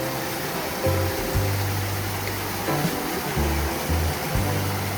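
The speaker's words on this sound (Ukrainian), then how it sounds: "Це водоспад дівочі сльози." Steady broadband rush of the Divochi Sliozy waterfall in Yaremche, a continuous wash of falling water heard fairly close, with low rumbling tones running beneath it and no talking.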